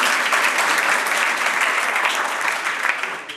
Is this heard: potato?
no